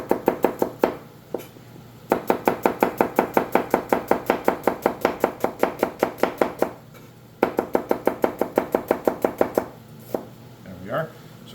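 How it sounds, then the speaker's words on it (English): A knife chops quickly and rhythmically through white onions on a cutting board, slicing them thin in long runs of steady taps with two short pauses, close and clear. "we're going to cut them right down the middle, and we are going to cut these"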